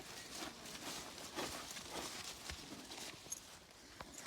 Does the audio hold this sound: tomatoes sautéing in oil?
no